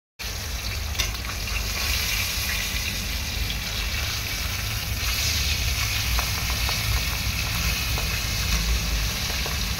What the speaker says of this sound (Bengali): এরকম ঢাকা বন্ধ করে দেবে, মাছটা অলরেডি খুব ভালো ভাজা হবে